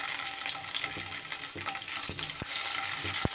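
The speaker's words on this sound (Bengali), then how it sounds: "পনিরগুলোকে আমি একটু হালকা করে ভেজে নেব।" Paneer pieces fry lightly in hot oil, giving a steady broadband sizzle throughout with a few soft stirring knocks and scrapes close by.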